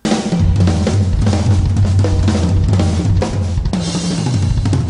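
Dale's drum solo from the movie Step Brothers, played by John C. Reilly's character: a loud, dense, continuous wash of pounding drums and crashing cymbals with little break.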